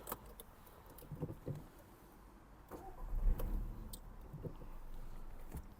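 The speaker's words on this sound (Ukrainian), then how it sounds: "Ось автомобіль завівся." A 2009 Volkswagen Golf VI with a 1.4 MPI petrol engine cranks and fires up, then settles into a low, steady idle, all fairly faint and heard after some key and cabin clicks.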